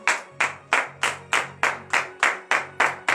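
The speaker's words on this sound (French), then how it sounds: "Veuillez vous lever sur vos pieds et donner de vives acclamations à l'Éternel." A congregation at morning prayer claps in acclamation, ten loud, evenly spaced unison claps at a steady rhythm, with a low hum of voices between them.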